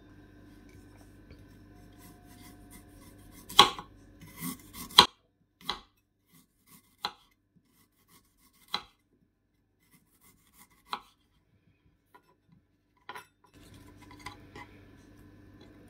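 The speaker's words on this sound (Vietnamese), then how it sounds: "Giờ mình cắt nhỏ nha." A knife slices fresh ginger into thin pieces, producing a series of sparse, crisp cuts spaced irregularly against near silence, a few closer together early on and then single taps.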